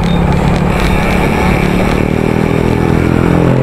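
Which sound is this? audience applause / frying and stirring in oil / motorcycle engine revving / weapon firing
motorcycle engine revving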